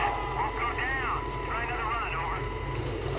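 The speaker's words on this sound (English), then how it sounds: "there are a lot of helicopters here that annoys me" Helicopters drone overhead in the video game Prototype, a steady engine hum with wavering, whining tones sweeping up and down, moderately loud beneath a speaking voice.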